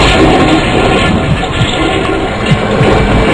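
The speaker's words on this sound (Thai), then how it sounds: "มากดชักโครกกัน" Toilet flush in a video game: a loud, steady rushing of water with a gurgling roar that fills the whole clip, no talk over it.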